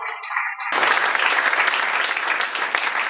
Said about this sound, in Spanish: ¿Alguien le da un aplauso a Dios en esta preciosa hora?